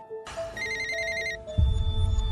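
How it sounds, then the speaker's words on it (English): A mobile phone rings with a bright electronic ringtone of repeated chiming tones, then a low thump and rumbling noise follow as the ring continues faintly. "Elizabeth's phone rings"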